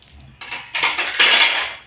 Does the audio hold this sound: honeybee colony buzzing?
no